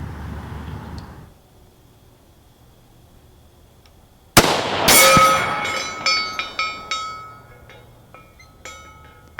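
A rifle fires at a 400-yard target outdoors, a single sharp, loud report after a quiet stretch, followed by a distant echo and several faint decaying reverberations.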